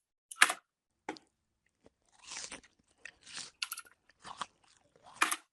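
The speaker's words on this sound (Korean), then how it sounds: "잘 들어보시면 쩝쩝거리는 소리가 납니다" Close, wet lip smacking and chewing in short separate bursts with quiet pauses between them, irregular and intimate.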